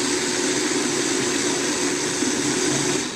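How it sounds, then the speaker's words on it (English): A blender churns orange concentrate into a frozen fruit slushie, a steady loud whirring grind holding constant throughout with no pauses or voices. "Hold the lid on your blender so it doesn't go everywhere."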